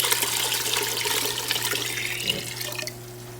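Six cups of water pour steadily into a stock pot holding apple cider vinegar, a rushing splash over a low hum, then tapers off near the end.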